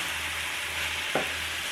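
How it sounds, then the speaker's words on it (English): Saltfish and plenty of onions sauté in a pan for a Dominican village breakfast, giving a steady loud sizzle throughout with one brief stir or scrape near the end. "So we let this saute."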